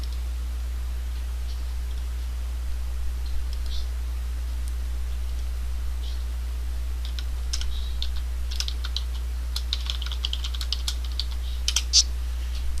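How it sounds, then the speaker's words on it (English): Keystrokes on a computer keyboard entering a pose name during a Sims 3 pose-making session, sparse at first, then quicker bursts of light close taps over a constant low hum. "And then type in the name of your pose."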